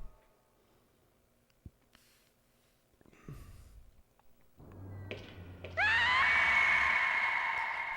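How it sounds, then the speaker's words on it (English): Male scream in a video game, following a few scattered knocks and rustles, then a loud, sustained, shrill wavering cry that rises sharply and holds for about two seconds. "That is the realest scream I've ever heard in a video game."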